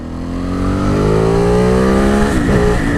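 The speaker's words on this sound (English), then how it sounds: "Oh, that was a scooter, god damn it." A scooter passes close by on the street, its engine buzzing loud and steady and rising in pitch as it goes past, with no talk.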